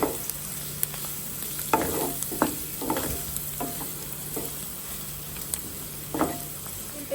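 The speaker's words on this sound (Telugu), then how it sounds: "అల్లం వెల్లుల్లిపాయ పేస్ట్ వేసుకుని పచ్చివాసన పోయినంత వరకు వేయించుకోవాలి" Ginger garlic paste frying with onions in a pan, a low continuous sizzle broken by intermittent scraping stirs and light clinks of a spoon against the pan.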